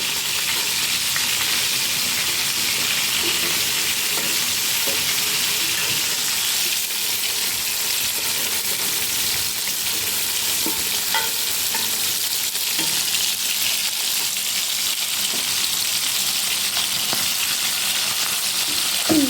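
Chopped leek fries in a pan for an Ethiopian salona stew, a steady, fairly loud sizzling hiss with a few faint stirring scrapes and a clink near the end, with nobody talking.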